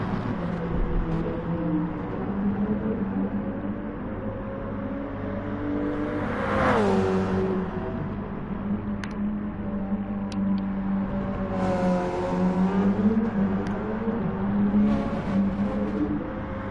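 A race car in the GT Sport video game drives through the Esses at Suzuka. The engine drones steadily with rising and falling revs through the bends, and a few sharp gear-change whines cut in. It is loud and continuous, with no talk over it.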